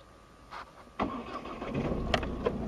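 A Ford C-Max engine started by push button, a brief starter whir followed by the engine catching and settling into a steady idle, heard from inside the car.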